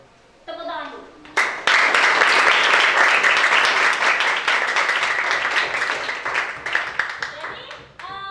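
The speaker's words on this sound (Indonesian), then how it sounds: "Tepuk tangan dulu." Applause from an audience of pupils in a classroom during a lesson on religious plurality: a brief voice and a few claps, then a sustained burst of dense clapping lasting several seconds before it thins out.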